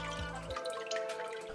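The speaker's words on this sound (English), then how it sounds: "To start off, separate the chilies from the brine." Brine drains from fermented chilies, a short trickle and drip of liquid with a low rumble at the start that fades to light dripping, close and fairly quiet.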